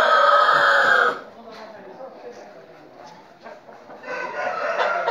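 A Galo Moura rooster crows loudly and close at a breeding farm, one long call at the start, followed by faint clucking and background voices talking under quieter barnyard sounds.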